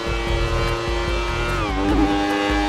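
A Yamaha R1 motorcycle in GTA 5 screams at top speed on an ordinary road, its loud, steady engine whine running close throughout, with a brief dip and rise in pitch partway through like a gear change.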